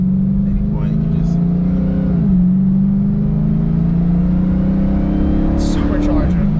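Supercharged Dodge Charger Daytona Hellcat accelerating on the road, a loud steady engine drone from inside the car that rises gradually in pitch, with one brief dip in between and the supercharger whine continuing beneath. Light talk is present.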